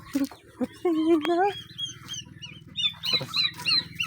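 Loud honking fowl calls, turkey-like, sound in bursts near the listener while people talk in between.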